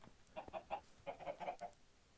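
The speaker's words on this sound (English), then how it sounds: "Got a chicken coop right here." Minecraft chickens in a coop give a quick run of soft, close clucks in two short bursts, alone without talk.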